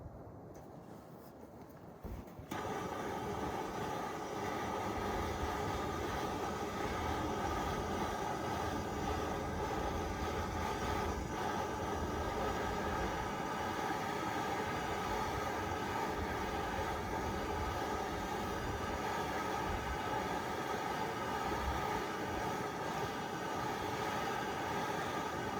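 A turbo diesel snow blower engine roars up to full throttle after a couple of quiet seconds, then holds a loud, even, droning run without letup.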